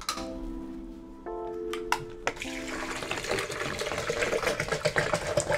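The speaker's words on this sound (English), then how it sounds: "You just add some dates, and then you add some water" Water pours into a blender for a date smoothie, a short trickle and splash that follows a few tonal clinks and then settles into a steady, moderately loud running-water wash.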